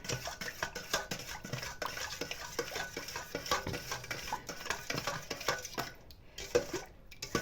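Repeated soft scraping and tapping of a utensil against a bowl as thick yeast dough for pies is stirred, close and quiet, with a brief pause near the end.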